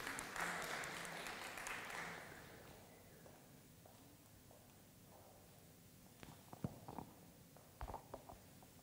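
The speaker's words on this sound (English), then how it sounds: "That deserves a clap" Applause from an audience at an HR and hiring trends panel event rises in a broad dense wash for about two seconds, then fades away, leaving quiet room noise with a few scattered knocks and shuffles.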